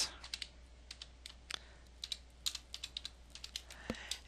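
Text going in on a computer keyboard: a quiet run of separate, close key clicks in an uneven typing rhythm, with soft pauses between short bursts.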